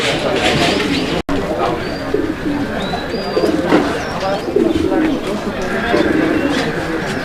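A pair of grizzle pigeons coo repeatedly at close range, soft throaty calls rising and falling while someone talks over them throughout.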